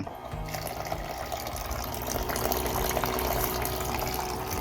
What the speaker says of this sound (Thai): กดอีกครั้งหยุด มันก็จะดูดน้ำมานะครับ